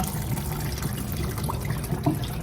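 Hot water from blanched fresh peas pours from a pot into a colander, a steady rushing splash with small gurgles and drips, close and fairly loud with no talking.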